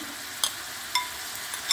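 Steady frying sizzle of minced meat and onion in a pan, with a few sharp clinks of a utensil stirring at irregular moments.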